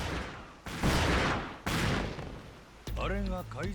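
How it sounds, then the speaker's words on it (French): Gunfire and explosive blasts in the video game Pirate Yakuza in Hawaii, a few loud bursts spaced apart with some voice-like sound near the end. "Qu'est-ce qu'ils sont en train de tirer?"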